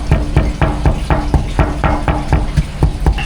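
Holes are punched in a clay jar used for baking herbal chicken in a northern Thai style, making a rapid, even series of sharp taps close up, roughly four per second.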